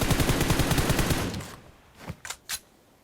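Dense, loud automatic fire rattles in PUBG Mobile for about a second and a half, then fades out, followed by three sharp, separate shots.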